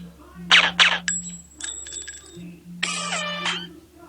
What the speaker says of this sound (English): text tone, gun with silencer. I'm just gonna give you a preview.